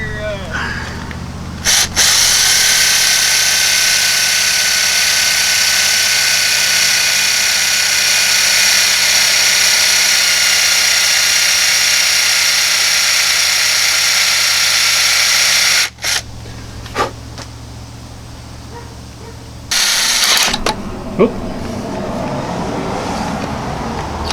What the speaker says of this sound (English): Drilled in there and drilled to the end of the bolt and went right.